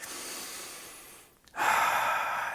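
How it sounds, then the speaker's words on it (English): A slow, deep breath taken to calm presentation nerves, a long airy exhale followed after a brief pause by a louder, fuller inhale, close and alone without talk. "one of the best ways that I know to do that is really to take a deep breath"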